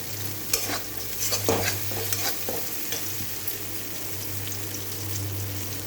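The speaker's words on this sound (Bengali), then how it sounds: "মশলা ভাজা হয়ে গেছে, আমি হালকা আবার জল দিলাম" Spice paste, already fried until the oil separated, is stirred in a pan after a splash of water, with soft sizzling and a few scraping strokes early on, then a steady low simmering hiss, fairly close and with no voices.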